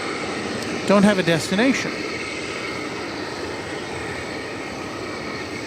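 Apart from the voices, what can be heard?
American Airlines Boeing 737-800 aircraft at DFW Airport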